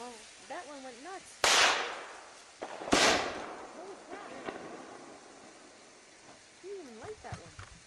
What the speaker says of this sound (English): It's a firework.